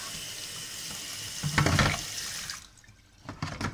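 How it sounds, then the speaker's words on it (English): Water runs from a household tap onto electronics in the sink, rising to a loud splashing burst, then easing off before resuming in short gushes, with no talk. "I accidentally, deliberately turned the tap on like this"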